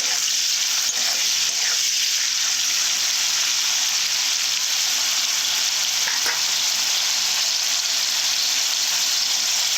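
Bitter gourd fries in a pan with salt, chili and turmeric, giving a steady broadband sizzle that holds throughout, with occasional stirring scrapes and no talking.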